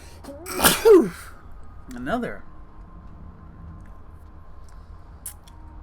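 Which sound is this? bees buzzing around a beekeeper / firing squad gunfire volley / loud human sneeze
loud human sneeze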